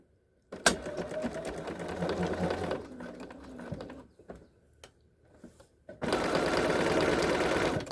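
A sewing machine stitches a crossbody bag flap at a 3/8 inch seam allowance, running in steady bursts with a pause in the middle before resuming loud and continuous.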